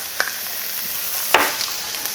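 Garlic frying in oil over high heat for a bean sprout ramen, a steady bright sizzle with a couple of sharp clinks or stirring knocks.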